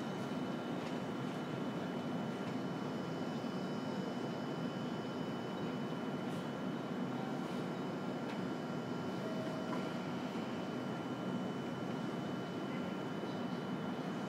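Interior running noise of a 303 series commuter train travelling between stations on the Chikuhi line toward Meinohama, a steady rumbling drone with wheel hum and faint tonal whine, continuous and fairly loud throughout with no talk.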